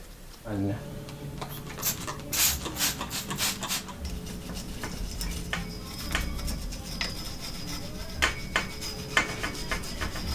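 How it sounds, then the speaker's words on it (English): Fine 0000 steel wool rubs and polishes parts of a 1982 Schwinn World Traveler bicycle, making a close, continuous scratchy scrubbing with quick repeated strokes and occasional light metallic taps. "I'm taking a little 4-0 steel wool and cleaning and polishing"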